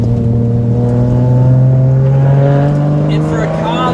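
A Subaru Liberty H6 all-wheel-drive sedan accelerating out of corners on a winding road, with a steady, loud engine drone that rises slowly in pitch throughout.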